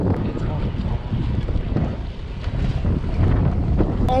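Heavy wind buffets the microphone of a cyclist riding along the Cher into Tours, France, in a constant low rumble, gusting and roaring throughout with no clear voices.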